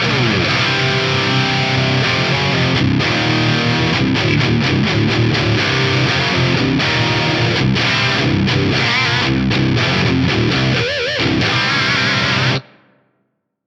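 A heavily distorted electric guitar through an Axe-Fx amp modeler's Filth preset plays dense, continuous riffs at full loudness for about twelve seconds, then cuts off abruptly into a short decaying tail of plate reverb.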